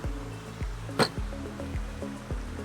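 Water is poured into a traditional Costa Rican coffee maker filled with local coffee, making soft, evenly spaced drips and trickles, quiet and close, with one brief louder splash.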